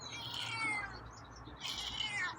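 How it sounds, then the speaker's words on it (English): A feral cat gives a long, fairly strong meow, pauses briefly, then meows again, both calls close and quiet with no talking over them. "It's a stronger meow."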